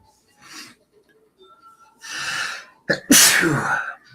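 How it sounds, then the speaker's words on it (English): A single close, loud sneeze preceded by a sharp inhaling breath and build-up, with a burst of air at the end; no talking. "how many times can I sneeze?"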